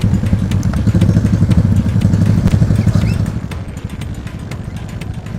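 A motorcycle travels a damaged, muddy rural road in Tobadak district, Indonesia. Its engine chugs close and loud with a rough, pulsing rhythm and some clatter, easing slightly toward the end.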